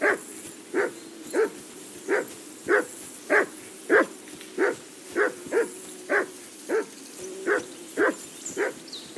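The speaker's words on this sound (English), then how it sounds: "Do something with that mutt, Henry." A dog in Kingdom Come Deliverance II barks again and again at a steady, insistent pace, about fifteen sharp barks over several seconds. The barks sound fairly close, with no talk over them.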